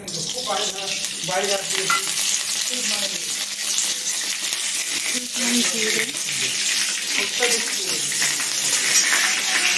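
Bay leaf and a dry red chilli tempering in hot oil, a continuous loud sizzle and crackle, with speech heard over it.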